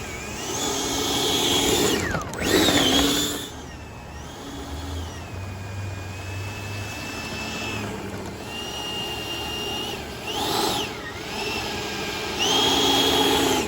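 FMS 80mm BAE Hawk RC model jet taxiing at dusk, a loud whining electric ducted fan that rises and falls in pitch as the throttle changes, close and continuous.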